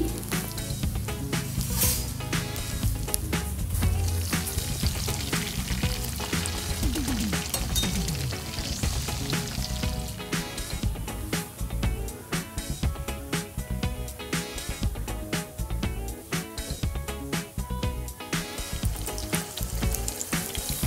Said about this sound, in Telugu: ఇలా చికెన్ అంతా కూడా ఎన్ని వాయిలు వస్తే అన్ని వాయిలు ఫ్రై చేసి పెట్టుకుందాం.